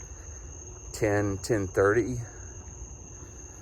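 Crickets chirp at night in a resort courtyard, a thin, steady, high-pitched trill running continuously in the background while a person briefly speaks over it.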